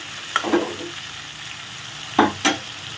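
Plantain and prawns fry gently in a covered pan over a medium flame, giving a low steady sizzle broken by a few short bursts of stirring and clattering.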